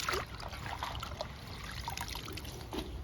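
Water trickles and splashes softly while sweet potato greens are washed by hand, a faint continuous dribble with small irregular splashes close by.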